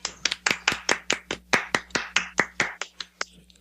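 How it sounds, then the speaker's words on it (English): Distinct hand claps ring out one after another in a quick, roughly even rhythm, close and crisp, with about sixteen sharp claps that thin out and fade toward the end. "Applause."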